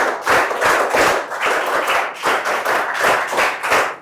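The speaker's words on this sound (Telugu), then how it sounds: "గట్టిగా చప్పట్లు కొట్టి అభినందించండి." Schoolchildren in a classroom clap together in loud, close, rhythmic bursts of applause that pulse steadily throughout, with no talking.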